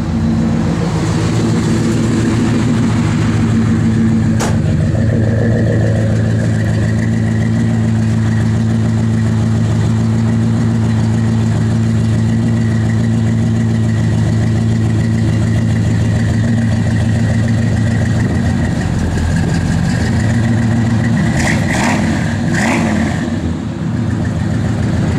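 A 1968 Plymouth Fury III Fastback engine idles steadily and loud up close, a deep continuous rumble with a slight rise near the end, no talk over it.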